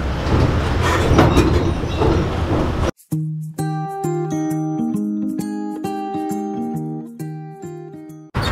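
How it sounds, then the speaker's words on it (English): A passenger tram rolling through the Bangkok University Rangsit campus gives a loud, steady rumbling rattle for about three seconds before it abruptly gives way to plucked, melodic background music. "Now we're on a tram and not have a lot of people on here."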